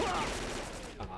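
Gunfire from a weapon in the video game S.T.A.L.K.E.R.: Call of Pripyat, fired from the hip, forms a short, dense burst of loud shots with reverberant tail, filling the moment without talk.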